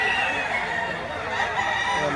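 A rooster crows loudly and continuously at a market in Lipa, Batangas, a strained, drawn-out call close to the listener.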